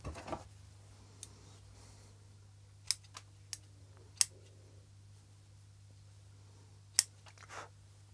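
Scissors snip through the roots of a 15-year-old cork bark Chinese elm bonsai during repotting, giving a handful of sharp, separate clicks spaced irregularly over a steady low hum, close and fairly quiet.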